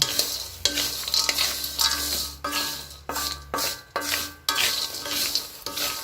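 Peanut peyek crackers frying in a wok over medium heat, with steady close sizzling broken by repeated clinks and scrapes of a utensil stirring against the pan.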